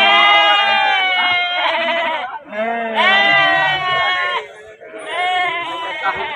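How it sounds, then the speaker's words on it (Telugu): Sheep and lambs at a livestock market in Jammalamadugu bleat loudly and close by, long wavering cries that repeat one after another with hardly a break. "ఆ పక్క ఒట్టి గొర్రెలు ఉన్నాయి, ఈ పక్క చిన్న పిల్లలు ఉన్నాయి."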